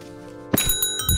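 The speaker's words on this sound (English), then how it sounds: "let's ring the doorbell" A doorbell rings in a video game, a bright metallic ding-dong that sounds twice in quick succession, then repeats after a short pause.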